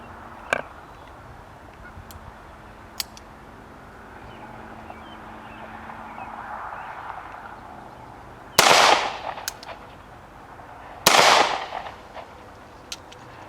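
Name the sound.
Bond Arms Back Up .45 ACP pistol firing rounds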